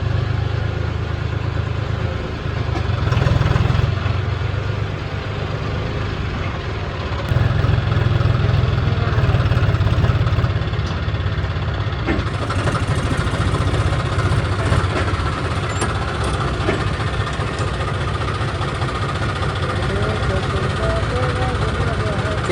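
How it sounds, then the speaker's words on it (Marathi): An International tractor engine idles at night, a steady low rumble that runs continuously beneath people talking nearby. "आपला इंटरनॅशनल ट्रॅक्टर आणि आपल्या जोडदाराचा ट्रॅक्टर आपला त्याच्या मागं नंबर आहे"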